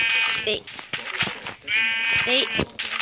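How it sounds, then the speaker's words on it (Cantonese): Sheep in the video game Minecraft give several nasal, wavering bleats in quick succession, loud and close, while someone talks excitedly over them. "我見到有羊啊，殺！"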